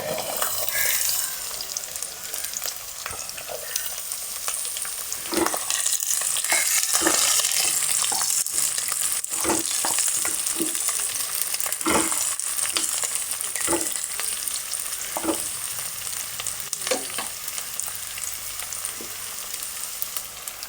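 Chopped shallots sizzle and fry in a pan for a homestyle Kerala beef fry, a steady hiss broken by occasional stirring clinks and scrapes, with no talking.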